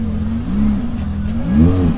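An Aston Martin with 600 brake horsepower revs hard at a wings-and-wheels show, a loud, close, throaty engine swelling twice with a deep rumbling roar and no talk over it.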